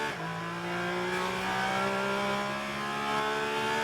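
A 2022 Porsche Cayman Club Sport with a 3.8 liter engine races at Daytona, its engine note climbing steadily through the gears, loud and close, with a steady roar throughout and no talk.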